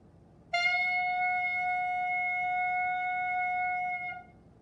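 A clarinet mouthpiece and barrel played on their own sound one sustained, bright, high squawking tone that holds steadily for about three and a half seconds before cutting off.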